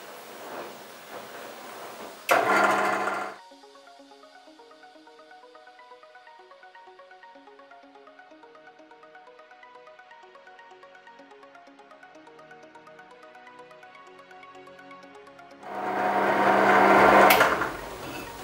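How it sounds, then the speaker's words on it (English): A power drill whirs with a steady motor whine, framed by louder rough grinding bursts at the start and end as it bites into material. "So now, well, we're just gonna drill it, but it's kind of hard"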